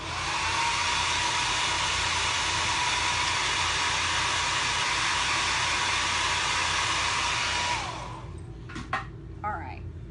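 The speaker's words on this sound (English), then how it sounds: "Let me dry that spot real quick." A hair dryer blows steadily and loudly for about eight seconds to dry chalk transfer paint on a Pumpkin Spice fall decor craft, then cuts off, leaving faint handling noises.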